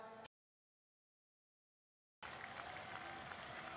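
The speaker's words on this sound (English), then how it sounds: "round of applause, very nice." Audience applause at a Dota 2 esports championship event, a dense continuous clapping crowd that bursts in after a brief start, then a two-second gap of silence, then sustained loud applause.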